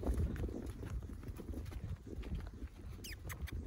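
Faint hooves of a small horse clop unevenly on the ground as it walks, soft and close, with a few tiny squeaks near the end.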